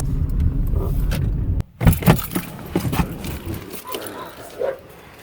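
A dog barks a few times in short bursts near a running car engine, with jangling and handling noises mixed in, beside a third-generation Toyota Tacoma.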